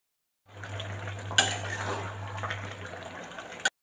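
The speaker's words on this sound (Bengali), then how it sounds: "তো দেখো বাঁধাকপিটা দিয়ে দিলাম, এটাকে আবার চাপা দিয়ে একটুখানি নরম নরম করে নেবো, ভাজা ভাজা হয়ে গেলে জল দিয়ে দেবো" Cabbage being stirred and fried in a pan, a short close burst of soft sizzling with a scrape and a clink of a utensil against the pan at the start and end.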